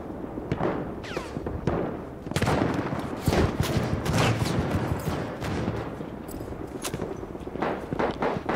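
Battlefield 1 gunfire: a steady scatter of distant and nearer rifle and machine-gun shots cracking irregularly across a battlefield, with footstep-like sounds mixed in.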